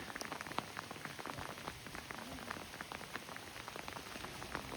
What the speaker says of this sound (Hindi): ओह ये देखें ज़रा यहाँ पे बारिश।